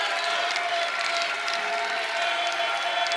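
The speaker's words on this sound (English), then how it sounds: "Listen to this crowd." Dense college basketball arena crowd at a postseason tournament game, a steady roaring wash of cheering and applause with scattered whistles, loud and continuous throughout.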